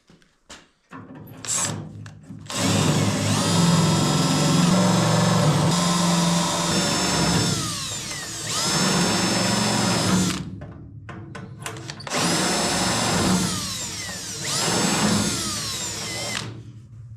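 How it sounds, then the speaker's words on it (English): Spot weld cutter bores through spot welds in rusted car sheet metal, a power drill whining and grinding in several sustained bursts of a few seconds each, separated by brief pauses, loud and close. "If you're cutting any spot welds, buy one of these cheap spot weld cutters."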